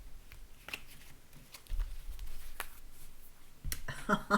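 Soft riffling and slapping of tarot cards being shuffled, a few light flicks followed by a quicker burst of shuffling near the end.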